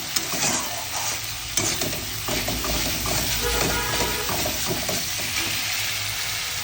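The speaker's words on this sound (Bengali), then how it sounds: "এবার জলটা দিয়ে দেবো।" Water goes into spice paste frying in a pan for a Bengali pakal fish curry, set off with green chilies. A busy, close sizzle and bubbling crackle continues throughout, with scattered scraping and stirring.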